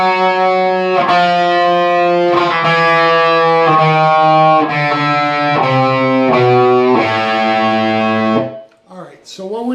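Distorted electric guitar plays a lick as a series of loud, sustained chordal hits with a short descending walk down, ending in a brief fade near the end.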